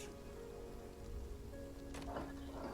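Rain falling steadily as a background sound effect during a tabletop role-playing session, a soft continuous hiss with faint tonal music lines underneath, moderately quiet and without speech.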